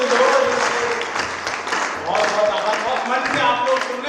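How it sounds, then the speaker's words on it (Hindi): An audience claps throughout a Hindi poetry recital on a Delhi stage, dense steady applause with a voice speaking over it. "ताली बजाओ मिलके सारे जोर जोर से"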